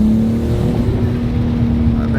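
Engine of a tuned daily-driven car fitted with downpipes idles with a loud, steady low drone and slight rising revs near the end, close to the recorder.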